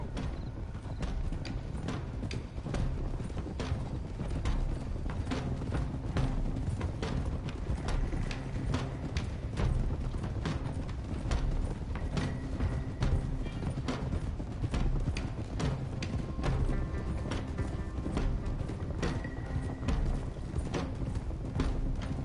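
Several horses trot steadily in Red Dead Redemption 2, their hooves making continuous, overlapping clip-clop beats at close range over a low rumbling game background for the whole stretch, with no speech.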